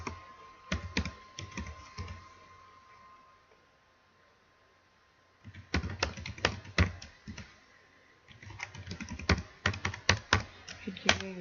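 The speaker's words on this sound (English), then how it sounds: "Just type git push." A git push command is typed on a computer keyboard, with bursts of crisp, close key clicks separated by a pause.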